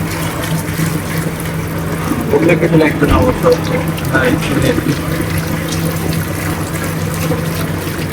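Hands being washed under a running tap at a restaurant hand-wash spot, a steady splash and trickle of water with a low constant hum, growing louder in the middle, while people talk nearby.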